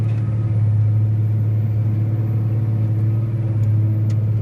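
A Cat 980H wheel loader with a grapple unloads a log truck, its diesel engine holding a loud, steady low drone close by, with a few faint clanks from the work.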